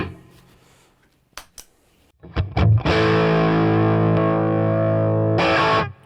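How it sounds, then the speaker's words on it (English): An overdriven electric guitar on the bridge pickup through a Sweet Honey Overdrive pedal, likely a Reverend Billy Corgan Signature: a few muted picks and scratches, then a sustained distorted chord rings out loudly for several seconds before cutting off. "let's kick on the Sweet Honey Overdrive and hear what it sounds like with a bit of extra oomph"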